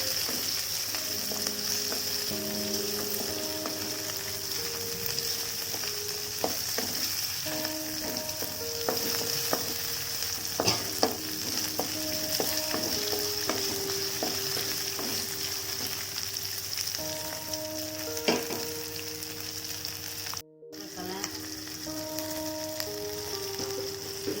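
Onions and spices (cinnamon, garlic, ginger, pepper, cumin) frying in a pan for a Tamil potato gravy, with a steady soft sizzle and scattered clinks and scrapes of stirring, close and alone with no talk.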